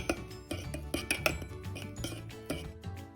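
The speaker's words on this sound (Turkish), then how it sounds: "Üzerinin kabuk tutmaması ve soğuması için 5 dakika daha çırpalım." A whisk clinks and scrapes against a metal pot while stirring thickened banana pudding off the heat, with close, repeated taps and light metallic chinks in an uneven rhythm.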